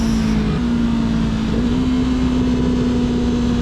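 A Yamaha R3 motorcycle on a twisty road holds a steady, close engine drone, the pitch stepping up slightly partway through.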